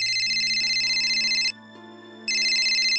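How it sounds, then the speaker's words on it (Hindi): A mobile phone rings with an incoming call, a loud electronic ringtone playing in a bright repeating pattern, breaking off for under a second before starting again, close and clear over faint background hum. "पैम का फोन"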